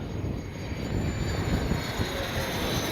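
An FMS 70mm A-10 Thunderbolt II remote-controlled jet in Arctic camouflage flies overhead, its electric ducted fan giving a continuous, fairly loud whine and rush that holds steady throughout.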